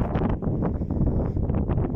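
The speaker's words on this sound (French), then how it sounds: "Attention, le vent va vous casser les oreilles," Strong wind buffets the microphone on a coastal headland of the Crozon Peninsula in Brittany, a loud, continuous rumbling roar with gusty surges throughout, no voices.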